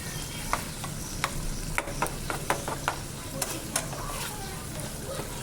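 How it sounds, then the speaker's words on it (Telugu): Mutton liver fries in a pan under a steady sizzle, punctuated by a rapid series of sharp taps and scrapes as the pieces are stirred, close and without speech. "ఇంకా ఫ్రై చేద్దాం."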